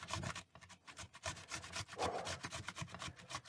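Potato grated by hand for hashbrowns, a close run of rhythmic rough scraping strokes, each a quick rasp with brief pauses between, fairly quiet and without talk.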